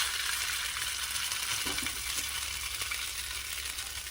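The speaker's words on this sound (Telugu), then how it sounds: "ఇప్పుడు ఆయిల్ పోసుకొని అది హీట్ అయ్యాక చేసిన కబాబ్స్ ఒక్కొక్కటి తీసి అందులో వేయాలి" Chicken seekh kababs fry in hot oil with a steady, close hiss of sizzling, broken by a few soft clinks as pieces go into the pan; no one speaks.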